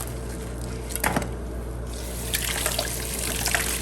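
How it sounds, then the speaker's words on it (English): Water runs from a tap over the outside of a glass canning jar while it is washed, a continuous splashing rush with brief squishing handling noises and no talk. "I just want to wash the outside of the jar."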